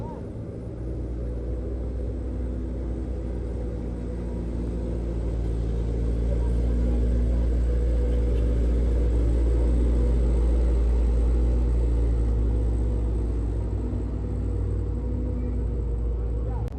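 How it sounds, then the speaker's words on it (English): A heavily loaded truck strains up an incline, its engine making a steady deep rumbling drone that swells a little louder partway through and holds near and constant. "One more truck unit failed to climb the incline here."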